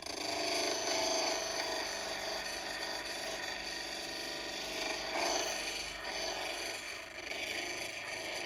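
Cabochon stone held against a spinning red polishing pad, giving a steady rasping, rubbing whir that continues evenly throughout with slight swells in intensity.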